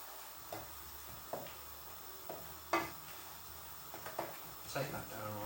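A creamy mushroom, courgette and onion sauce simmers in a pan with a soft steady sizzle, broken by occasional utensil stirs and scrapes, close and fairly quiet.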